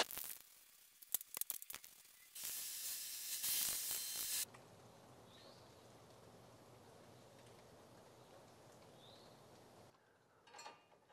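Rust-Oleum primer and gloss black sprayed from aerosol cans, with a few clicks and taps, then a loud burst of hissing spray, followed by quieter background and another short hiss near the end.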